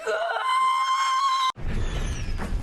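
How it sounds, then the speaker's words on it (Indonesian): A woman's loud, sustained high-pitched scream holds for about a second and a half, then cuts off into a burst of rough, crackling firecracker noise. "ia pun berteriak bersamaan dengan suara petasan"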